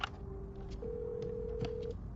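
A telephone rings out during an unanswered call, a faint steady electronic tone held for about a second and then continuing, quiet and alone with no talk.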